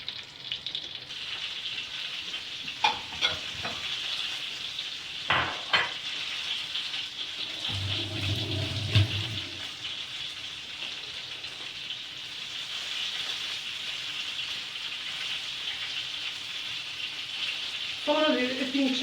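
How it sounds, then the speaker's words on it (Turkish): Minced meat sizzles and crackles steadily in a pan, with occasional scraping and stirring knocks and a brief low rumble partway through. "Kıyı etin içini kavrulsun."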